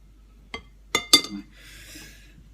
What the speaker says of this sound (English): I'm taking the remaining cream out from the jug. I'm just going to use a spoon